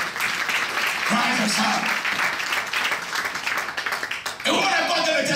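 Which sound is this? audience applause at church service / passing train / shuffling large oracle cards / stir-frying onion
audience applause at church service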